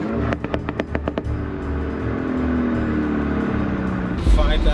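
A Mini's exhaust crackles with a quick series of sharp pops while revving, followed by a steady idle and rising engine note, with people talking nearby.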